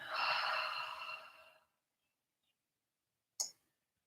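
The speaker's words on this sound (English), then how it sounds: "breathe out." A long, audible out-breath during a quiet morning meditation, close and soft, fading out into silence before a brief faint click.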